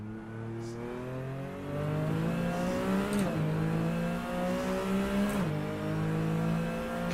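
Porsche 911 RSR race car engine in Assetto Corsa, loud and close, rising through the revs in repeated gear pulls with sharp shifts, a steady high-pitched racing drone.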